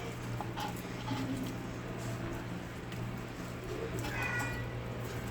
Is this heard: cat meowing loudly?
yes